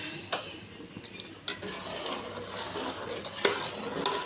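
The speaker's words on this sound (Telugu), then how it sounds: "కొంచెం ఇవన్నీ కలిసేలాగా కలుపుకోవాలి" A utensil stirs chicken pachadi in a pan, making repeated scraping and clinking against the metal over a faint sizzle, with a few sharper knocks and no speech.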